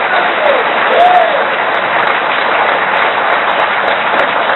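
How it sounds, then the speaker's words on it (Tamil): An audience at a political speech claps in a dense, loud, steady wash of applause that holds evenly throughout, with faint voices underneath. "ஒரு நல்ல கைத்தட்டு கொடுங்க சார்."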